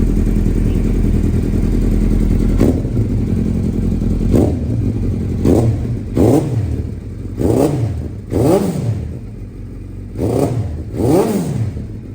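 A 2013 Suzuki Hayabusa motorcycle idles with a steady engine hum, then its throttle is blipped repeatedly in a series of short, loud revs that rise and fall, close by and without talk.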